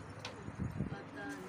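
A pigeon coos softly a few times in a short burst, with people talking nearby over it.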